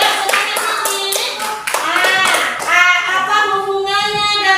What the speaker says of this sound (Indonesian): Ayo, Zikri, Kak kasih tepuk tangan untuk Zikri dulu.